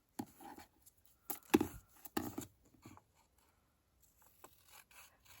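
Scissors cutting card stock for a stamped floral heart card, a few separate close snips and paper rustles with quiet gaps between them.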